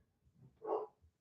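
A single muffled dog bark comes from the background indoors, faint and short, with nothing else around it.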